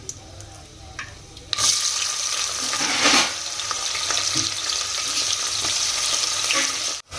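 Onions frying in oil in a pan with whole spices for biryani, a steady sizzle that jumps louder as they go in, with a few stirring scrapes and a clatter near the end.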